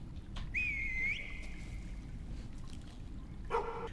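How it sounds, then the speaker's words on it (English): A whistle sounds in a detective horror video game: one clear tone that rises and then holds for about a second, followed by a short trilling burst near the end, all over a low rumbling background. "Whistle."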